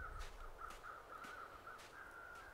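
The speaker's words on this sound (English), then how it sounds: "Damn crows, come back here." Crows in the video game The Long Dark caw in a repeated series of short, evenly spaced calls, faint over a steady ambient background.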